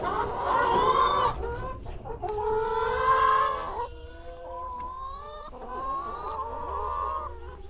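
Several chickens cluck and chatter inside a chicken coop, a near run of rising, squawky calls in overlapping bursts, with a rooster-like cry early on and no talking.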